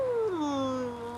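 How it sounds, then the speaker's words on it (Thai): A cat lets out a single drawn-out meow that slides downward in pitch, close and clear against a quiet household background. "แมว"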